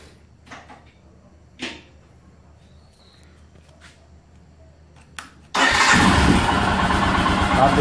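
A few faint clicks and knocks, then a Royal Enfield Himalayan motorcycle engine starts and settles into a steady, fairly quiet running hum.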